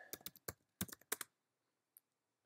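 Fingers type a quick run of keystrokes on a computer keyboard in a quiet room. The bursts are close and crisp, then stop, and one lone click follows after a pause.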